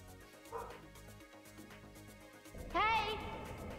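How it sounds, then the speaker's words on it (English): A dog barks indoors, upset by snow outside, giving a loud yelping burst near the end over game sounds and background talk. "my dog gets upset when there's snow outside"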